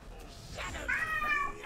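A house cat meows, a drawn-out tonal cry rising and falling over quiet background hum, close and fairly soft, with a voice faintly present.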